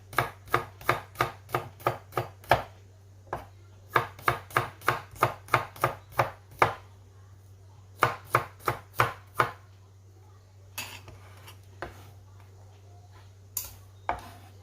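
A knife thinly slices bird's eye chilies on a cutting board, giving crisp, evenly spaced chops in several quick runs of about six to eight strokes, close and clear, ending in a few isolated cuts.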